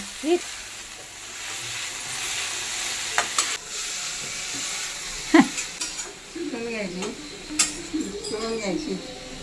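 Cooked cowpea vegetable being sautéed and stirred in a pan, with faint sizzling and occasional scraping clinks of a spoon against the pan, while someone talks over the cooking.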